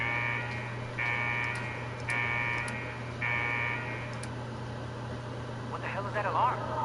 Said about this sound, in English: What the hell is that alarm?